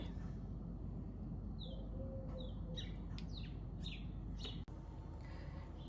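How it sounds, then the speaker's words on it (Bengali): Sparrows in a bush chirp in quick, high, scattered bursts against a faint steady background hiss, fairly distant. "কিচির মিচির ডাকছে"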